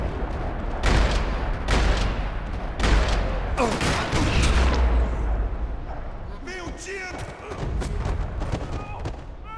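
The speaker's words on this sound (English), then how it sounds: "Another parking lot rattling with gunfire." Gunfire rattles across a parking lot in the video game Max Payne 3, with sharp repeated shots and bursts punching through a dense, loud mix while voices talk over the action.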